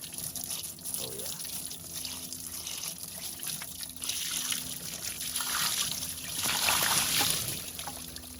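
Liquid trickles and splashes steadily as it is poured into the battery area of a Toro zero-turn mower to wash off acid buildup, a continuous wet pour that grows slightly louder toward the end, fairly quiet and close.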